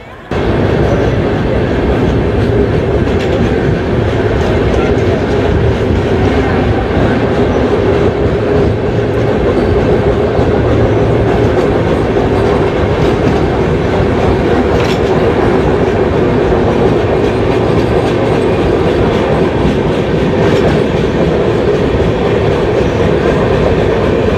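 The Neelachal Express sleeper train pulls out of Ghatshila station, a loud, close, continuous rumble of rolling wagons with rhythmic wheel clatter and occasional squeal, carrying on steadily throughout.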